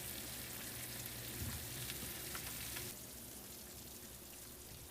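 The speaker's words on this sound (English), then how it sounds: "Sizzling." Loud, steady sizzling and crackling of vegan eggplant parmesan lasagna baking in the oven, a continuous frying hiss with small pops, no voices.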